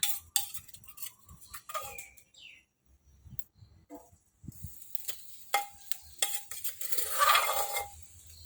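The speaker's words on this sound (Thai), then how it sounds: "ก็ผัดไปเรื่อย ๆ นะคะ คือผัดให้พริกกับกระเทียมสุกนะคะ" Pounded chili and garlic stir-fried in a little hot oil, heard as sparse, faint scrapes and clinks of a utensil against the pan, with birds chirping in the background and quiet gaps between strokes.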